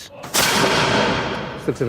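A matchlock arquebus fires one sharp, loud black-powder blast that booms and then slowly trails off, with a brief noise just before and a small knock near the end.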